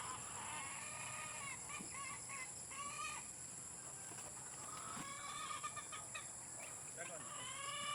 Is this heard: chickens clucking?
yes